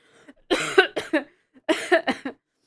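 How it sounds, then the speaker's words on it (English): Two loud bursts of harsh coughing, each a quick cluster of three or four coughs, separated by a short pause. "I'm so sorry for coughing so loudly."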